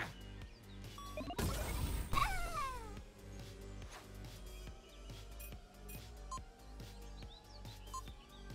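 Meows from a cat in the video game Echo Generation ring out over looping game music, with a few drawn-out cries bunched near the start and then the steady soundtrack carrying on.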